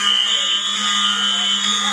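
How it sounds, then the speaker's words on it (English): A building fire alarm blares continuously, a loud steady electronic tone with a shrill high buzz that holds without a break from start to end, close and filling the space. "We set off alarms"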